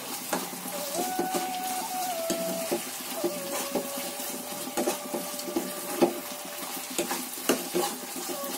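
Onion with ginger garlic paste frying in oil for an aloo matar curry, a soft, continuous sizzle broken by irregular scraping stir strokes and clinks of the utensil, fairly quiet with no speech.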